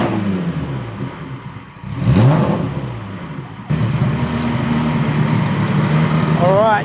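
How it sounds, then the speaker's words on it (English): A Ferrari-engined Alfa 105, running with its exhaust valves open, revs in loud rising and falling sweeps, then settles into a steady, deep drone with a final climb, and a voice talks over parts of it. "It is really loud with the exhaust valves open."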